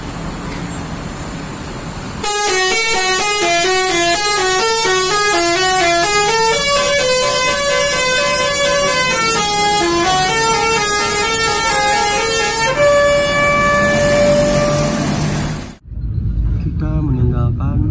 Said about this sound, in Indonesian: udah main klakson aja, mantap ini